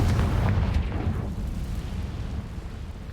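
A booming blast from the Confringo explosion spell in a video game, a heavy low rumble that swells at the start and slowly fades over a few seconds with no talking.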